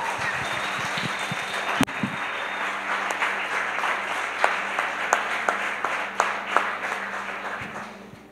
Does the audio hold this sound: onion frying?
no